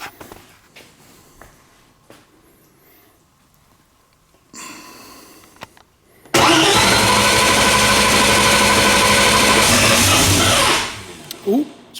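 A Fox Body Mustang convertible engine, low on battery and with an unprimed fuel system, catches and roars loudly to life after quiet clicks and a short crank, then idles steadily before cutting off and revving briefly.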